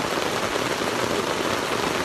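Steady rain drums on the roof of an RV in a dense, continuous patter, close and loud, with no voices.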